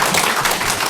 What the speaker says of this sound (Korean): 그 자리에 일어나 주시면 큰 박수로 환영하도록 하겠습니다